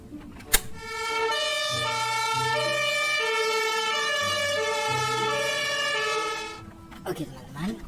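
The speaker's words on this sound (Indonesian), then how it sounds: "ada mobil ambulans teman-teman" A toy ambulance plays an electronic siren with a steady wailing tone over a few seconds, close and loud, preceded by a sharp click and followed by faint handling noise.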